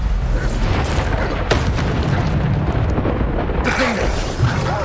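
Booming Bombarda spell blasts in Hogwarts Legacy, loud and continuous with bursts and rumbling debris during a chaotic spell fight, no talking.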